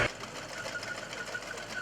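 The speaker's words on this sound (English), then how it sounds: "This is run off of a PTO on a tractor, is what we're using, and it's just belt driven." Old belt-driven farm mill running off a tractor's PTO at a rural farm day, a continuous mechanical whir with a steady fast rhythmic hum, moderately close and unbroken.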